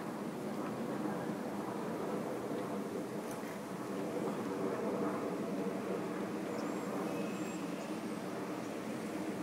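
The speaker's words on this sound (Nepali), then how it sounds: "आकाशमा एउटा जहाज" An airplane passes overhead above a Buddhist temple in Hacienda Heights, heard as a steady, broad roar that holds evenly throughout with no one talking.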